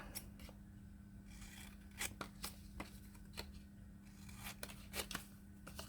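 Scissors cut paper off a page in an altered book, giving a string of quiet, close, crisp snips and paper rustles at irregular intervals over a low steady hum.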